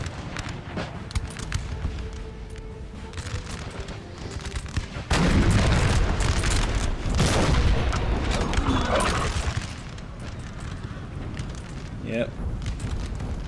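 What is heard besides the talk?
12-pounder artillery cannon volleys in Napoleon Total War video game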